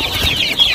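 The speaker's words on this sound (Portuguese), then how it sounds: "Que é tudo filho das minhas galinhas." Hens on a Brazilian rural smallholding veranda clucking in a short, steady burst, close and fairly loud with low background rumble.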